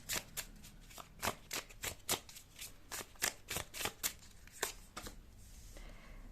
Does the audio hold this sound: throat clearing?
no